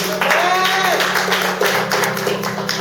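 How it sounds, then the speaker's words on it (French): A church congregation claps and cheers for Jesus in a dense, loud burst of hand claps mixed with raised voices, filling the whole short stretch. "acclamez très fort Jésus"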